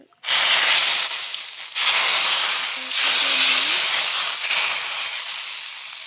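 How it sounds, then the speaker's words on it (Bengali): Cumin, garlic and bay leaf hit hot oil with a loud, close hiss that swells in several waves and keeps going for seconds, no speech. "তার জন্য তেলের মধ্যে জিরা, রসুন, তেজপাত দিয়া ভালো করে তেলের মধ্যে"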